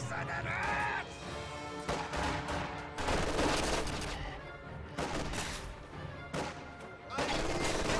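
LMG fire in a video game battle crackles in dense, rapid bursts with sharp cracks and brief gaps, loud and close, mixed with other gunfire and impacts and faint voices underneath.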